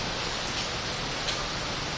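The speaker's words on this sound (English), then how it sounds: "It's raining sideways." Heavy rain driven sideways by wind on a street in Mexico hisses steadily and evenly, a dense close wash of drops with no voices.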